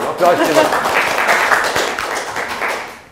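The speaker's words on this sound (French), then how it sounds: "On applaudit, on encourage." An audience at a children's show claps and calls out encouragement, a steady wash of applause with cheering voices over it, fading out after about three seconds.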